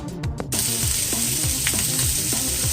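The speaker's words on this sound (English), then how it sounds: "We add our onions in there, and we're going to saute them until they're just glistening." Onions sizzle steadily in melted ghee over medium heat, a loud, close, continuous frying hiss with occasional soft stirring scrapes and no talking.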